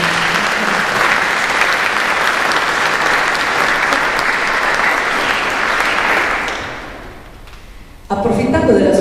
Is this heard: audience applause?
yes